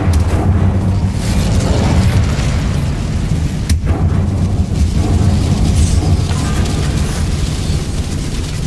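A fire spell is cast in the Hogwarts Legacy video game, unleashing a sustained, loud rumbling blast of flame with heavy low roar and a sharp burst partway through, continuing as a dense crackling wash.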